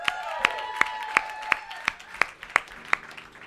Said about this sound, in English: How about another round of applause for these guys?